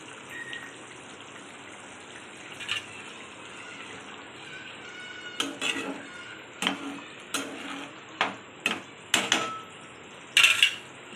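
A lid clattering onto a pot of chicken tikka curry, several sharp metallic clinks and taps close by in a quiet kitchen, clustered toward the end.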